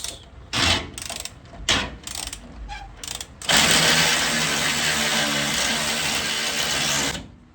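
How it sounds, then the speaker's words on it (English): Bolts being removed from a 1977 Ford F-150, heard as a run of short, sharp mechanical bursts that give way to a steady, loud ratcheting whir from a power tool, close up and with no talk. "I'm gonna remove all 4 bolts."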